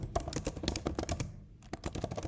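Rapid keystrokes clatter on a keyboard in quick, uneven bursts with a brief pause midway, close and crisp with no talking.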